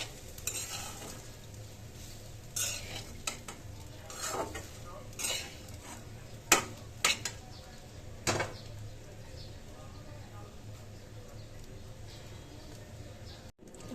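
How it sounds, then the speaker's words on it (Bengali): Cooked rice being stirred in a frying pan with large pulao leaves, soft steady sizzle underneath and several sharp scraping and clinking strokes of a spoon against the pan, fairly quiet and close. "ভাতটা দিয়ে লাড়া দিতে হইব।"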